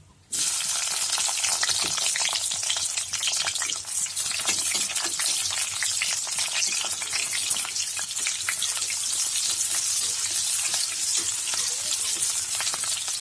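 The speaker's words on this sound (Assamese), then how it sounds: "গৰম হ'ল এতিয়া পিঁয়াজখিনি দি দিওঁ" Onions dropped into hot oil in a home kitchen, a loud, steady sizzle and hiss starting abruptly and continuing close up without pause.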